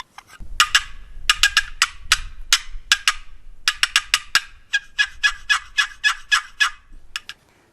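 A turkey box call, its lid pressed and rocked by hand, rattles out a rolling, cackling gobble: dense bursts of sharp yelps in quick runs, loud and close, with a short pause midway before a second steady string of gobbling notes.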